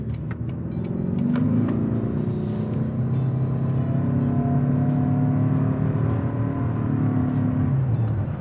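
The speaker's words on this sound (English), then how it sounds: "it just feels like it's high revving, and then it just stays like at a higher RPM till it gets you to the speed" A 2024 Toyota Grand Highlander Limited Hybrid AWD with a transversely mounted 2.5 liter four-cylinder engine revs up under acceleration and holds a steady high droning RPM, heard from inside the cabin.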